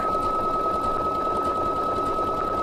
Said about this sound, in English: I'm lining up the edge of my fabric with the edge of that foot, and I'm going to stitch pretty quick